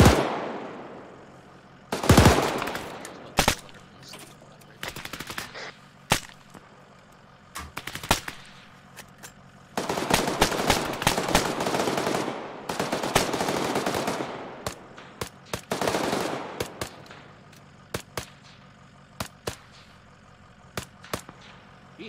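Bursts of automatic machine gun fire and single rifle shots ring out across a battlefield in the military shooter ARMA 3, loud volleys clustered early and again mid-stretch, with scattered echoing reports between.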